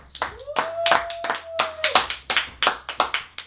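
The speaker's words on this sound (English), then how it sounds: "Give him a hand clap." Several people clap their hands in an uneven burst of sharp claps, close by, with a held whistle-like tone sounding briefly underneath.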